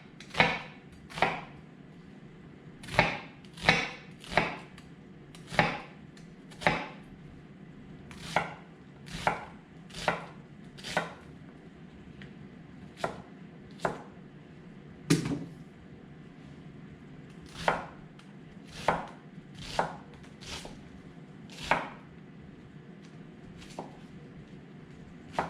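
A knife chops an onion into dice on a cutting board for turkey and black bean chili, steady close thuds repeating in an uneven rhythm with brief pauses, no voices.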